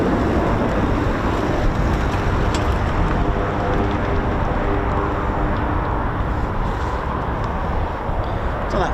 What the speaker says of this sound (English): So that's the Embraer Phenom from RAF Cranwell.